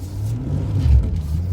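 A Jeep Gladiator on Cooper STT Pro 295/70R17 tires, stuck in four-wheel low with traction control braking the front wheels, strains at close range with a revving engine and a low rumble over a brief burst.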